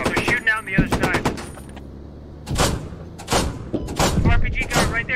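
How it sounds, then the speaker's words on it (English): Bursts of gunfire from the military shooter game Squad, sharp cracks and rapid volleys mixed with clipped radio-style voices talking over the shots, fairly close and loud in uneven clusters. "They're shooting out on the other side."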